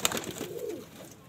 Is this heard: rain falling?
no